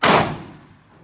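A single loud gunshot at shooting practice, a sharp crack up front that decays into a reverberant tail over about a second, with no talk.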